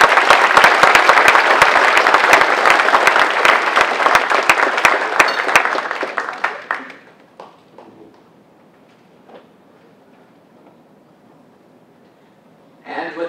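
Dense, loud applause from a banquet audience at an engineers' week hall of fame ceremony fills the first seven seconds, then fades to scattered claps and near silence before a brief burst returns at the end.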